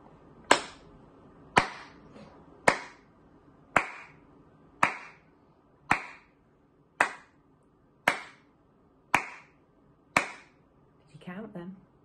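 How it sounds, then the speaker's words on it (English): Ten sharp, evenly spaced hand claps in a nursery counting game, each loud and crisp with a short decay, followed by a brief bit of talking. "This time I did 10 claps."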